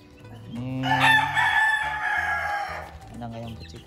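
A gamefowl rooster at a fighting-chicken game farm in Bali gives one long, loud, close crow that rises and holds for a couple of seconds before trailing off, with low clucking and farmyard murmurs around it.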